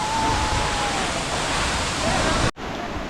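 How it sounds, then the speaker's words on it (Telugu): At Vasudhara Falls, the heavy flow of the waterfall gives a loud, steady roar close by that cuts out abruptly near the end before resuming. "ఫ్లో ఎక్కువైపోయింది మామ, కొంచెం వాటర్ ఫ్లో ఎక్కువైపోయింది"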